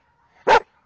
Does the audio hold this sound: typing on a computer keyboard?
no